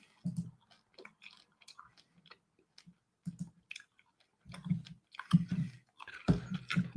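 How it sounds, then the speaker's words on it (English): Gum being chewed close to a microphone: soft, wet, irregular chewing clicks and smacks in short bursts, growing busier toward the end, with no talking. "I'm chewing gum right now."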